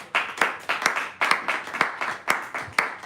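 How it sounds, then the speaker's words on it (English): An audience clapping in a hall at a Nigerian anti-cultism declaration event, a loose run of distinct, sharp claps at a steady beat, fairly close and with no talk over it. "please make that applause very loud"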